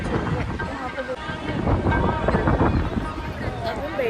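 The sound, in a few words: strong wind blowing outdoors, storm arriving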